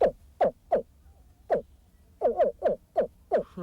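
A man imitates a deep grunting animal call from the pit of his stomach out over a lake or pond, about a dozen short, throaty grunts in an uneven rhythm, close and fairly loud.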